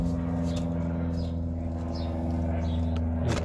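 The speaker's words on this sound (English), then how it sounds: "there's a plane flying over" An airplane passes overhead above a vegetable garden, giving a steady low droning hum that holds at an even level for the whole stretch, with no voices over it.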